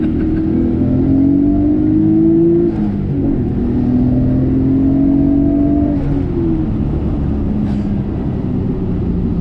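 A 1994 Nissan Skyline R32 GTR heard from inside pulls hard through the gears, loud engine tone climbing steadily, dropping briefly at each shift and climbing again, with road rumble beneath.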